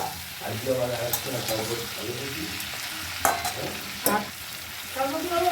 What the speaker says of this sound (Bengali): চালটা দিয়ে দিলাম, এবার এটা আস্তে আস্তে নাড়াচাড়া করুক